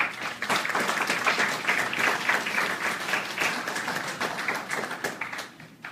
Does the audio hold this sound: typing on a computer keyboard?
no